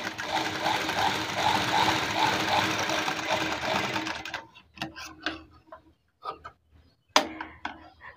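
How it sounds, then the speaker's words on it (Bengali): A sewing machine runs a continuous straight stitch along a blouse neck facing for about four seconds, a steady close whirring hum, then stops, leaving scattered clicks and fabric handling. "এখানে আমি স্ট্রেট সেলাই করে দেবো"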